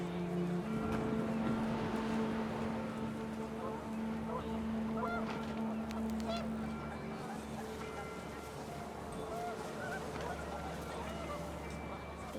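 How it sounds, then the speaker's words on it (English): Panicked geese honk and cackle in What Remains of Edith Finch, a dense flock of overlapping calls under a steady low rumble of wind, with narration running over them throughout. "panicked geese appeared and quickly went"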